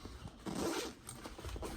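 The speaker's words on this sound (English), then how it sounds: "in the front it's got the zipper" A zipper on the front of a crochet supply bag being pulled open, a close, quiet rasping zip in a couple of quick strokes.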